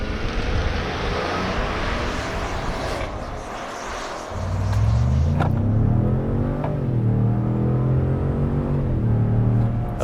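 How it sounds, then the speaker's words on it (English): A 2021 Ford F-150 Platinum with a 3.5-liter EcoBoost V6 accelerates without launch control. A smooth engine drone swells and climbs steadily in pitch over constant road noise. "Ecoboost Platinum without launch control."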